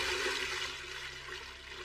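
Magically summoned water in an anime rushes in a continuous hissing gush, steady and fairly close, with no voices over it.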